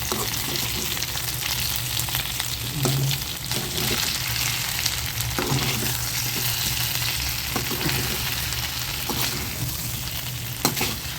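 Taro root pieces fry steadily in a pan, a dense continuous sizzle with occasional scrapes and soft knocks as the pieces are turned, close and loud with no talking.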